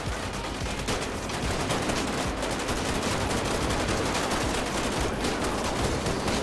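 Dense, continuous gunfire in GTA 5 during a police SWAT mod shootout, loud rapid bursts blending into a steady barrage throughout with no voices.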